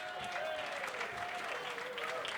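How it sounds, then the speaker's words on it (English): Audience applause at a football blogging awards show for a co-presenter, a faint, steady patter of many hands heard at a distance with some voices mixed in. "Give me a round of applause for Natalie, please."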